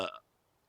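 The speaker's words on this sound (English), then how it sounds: "But I gotta burp." A man lets out a single short, loud burp after drinking beer, close up, fading quickly into near silence.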